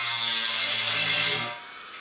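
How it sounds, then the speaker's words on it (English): A small Dremel rotary tool deburrs a drilled hole in a metal keg, giving a close, high, steady whine that holds for over a second and then spins down and fades. "I'm going to use my little Dremel tool."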